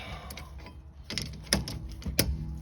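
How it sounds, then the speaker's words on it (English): Short metallic ratcheting and clicking as a wrench tightens the rear brake caliper bolts on a 2015 Honda CR-V, with a few sharp clanks near the end, close up and with no speech. "hold that in place and you tighten the bolts."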